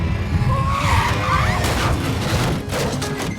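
A police car's tires skid loudly in a film scene, giving a sustained, close squeal over engine noise that fades briefly near the end and then returns.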